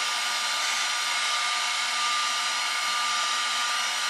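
A heat gun warming up on a fly-tying bench gives off a steady, even blowing hiss that holds at one level the whole time, close and alone with no voices.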